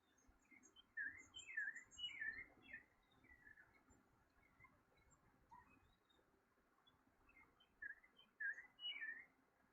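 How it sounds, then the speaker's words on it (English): Birds sing outdoors in faint, repeated bright chirping phrases that come in clusters at the start and end, distant against a quiet background with no talking. "Some nice bird songs today."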